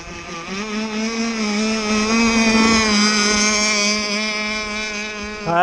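Close, steady engine drone of a homebuilt box cracker speedboat held at about quarter throttle, its strong harmonic hum shifting only slightly in pitch as the hull runs on the water, with no talking.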